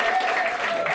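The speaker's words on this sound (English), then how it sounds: "Don't clap at that." A short burst of audience applause, a dense wash of many hands clapping at once.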